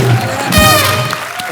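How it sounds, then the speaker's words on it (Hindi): A studio audience on a comedy talk show applauds and cheers for Himesh: close, dense clapping with crowd cheering, and a raised voice rings briefly above the noise. "जोरदार तालियां हिमेश सर के लिए।"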